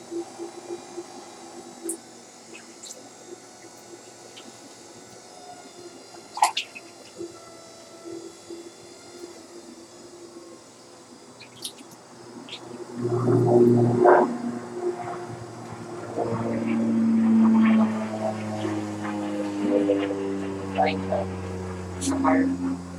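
A CAL FIRE firefighting plane flies overhead at a rural outdoor pottery setting, a steady droning engine hum that swells louder in the second half and lingers, with scattered clicks and background noise.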